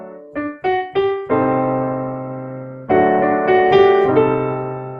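A few quick ascending piano notes lead into a full sustained chord that rings and decays, followed by a second rolled chord with added notes on top.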